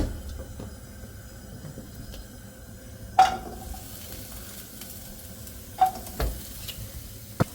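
Garlic stir-fries in an oiled pan with a soft, quiet sizzle, broken by a few sharp clinks of a utensil against the pan. No voices.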